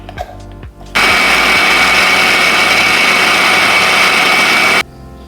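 A mixer grinder blends wheat dosa batter, starting abruptly after a bit of kitchen clatter and running as a loud, steady high whir for about four seconds before cutting off.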